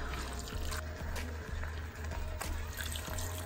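About 100 ml of water pours into a pan of chickpea, pepper and potato shakshuka, a continuous close splash and trickle over a steady low rhythmic hum, with no talking.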